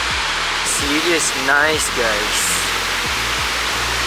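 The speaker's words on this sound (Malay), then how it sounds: "Ada waterfall dekat situ." Steady broadband rush of a waterfall at Cat Village fills the whole scene, close and continuous, while someone talks over it.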